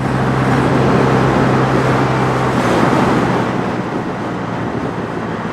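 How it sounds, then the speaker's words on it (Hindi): A Honda Hornet CB125 motorcycle is ridden flat out at full throttle on a highway, producing a constant droning engine hum with heavy wind rush, loud and unbroken throughout. "मैंने तो पूरा थ्रॉटल फुल किया हुआ है"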